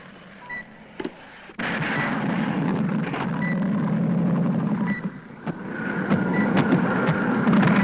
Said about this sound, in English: There's a light civilian plane coming in at 190 degrees.